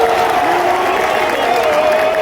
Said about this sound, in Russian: Ну вот, Халл провел хорошую атаку, и болельщики сразу приободрились.